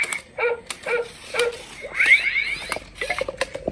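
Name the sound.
robot toy dog barking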